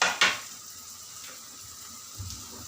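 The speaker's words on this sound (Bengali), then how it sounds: "এবার আমি এই চিকেনটাকে আমি এই আমার মশলার মধ্যে মেশাবো।" Chopped fried chicken is stirred into a spice masala in a pan, with a soft sizzle under a couple of sharp utensil scrapes at the start and a faint clatter near the end; no talking.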